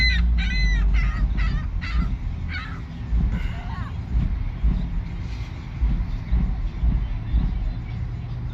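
Crows and other birds caw and squawk repeatedly in a noisy outdoor feeding frenzy over a rotisserie chicken, harsh calls clustered early and then scattered over a steady rumble of background noise.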